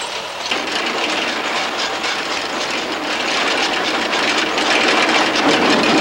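A train rolls steadily along a causeway railway line to a port in Eritrea, a loud continuous rumble with rhythmic clattering of wheels, heard close and without voices.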